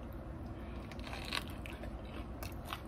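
A bite into a crunchy wrap of tuna, carrots and cucumbers in a spinach tortilla gives a few short, close crackling crunches over a steady low background hum, with no talking.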